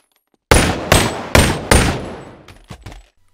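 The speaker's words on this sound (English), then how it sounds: "From aiming your gun and firing it" Gunfire from a virtual reality first-person shooter game: four sharp, loud shots in quick succession, each decaying fast. Quieter clicks and knocks follow as it dies away.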